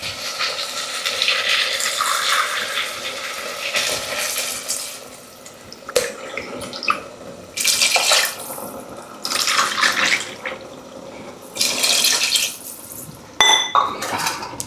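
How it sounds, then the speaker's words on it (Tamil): Water poured into a cooking pot for rice in a home kitchen: bursts of running water and splashing, alternating with clinks of pots and utensils, close and clear with no talking. "இப்போ வந்து தண்ணி சேர்க்க போகிறோம்."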